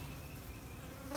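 Honeybees buzzing around beehive boxes during a late-February hive check: a dense, steady, droning hum of many insects, close by and even in level throughout.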